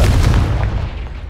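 Confringo spell blast in Hogwarts Legacy, a single loud booming explosion that rumbles low and fades quickly.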